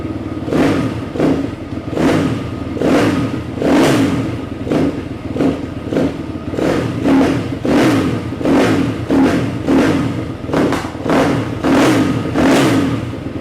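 A YCF pit bike engine runs close by and revs repeatedly in a steady rhythm, with loud rising bursts of throttle about once a second over a constant idle, and no talk.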